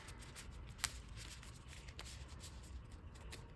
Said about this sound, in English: Quick little shuffle.